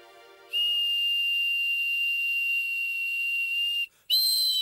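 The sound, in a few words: homemade toy whistles being blown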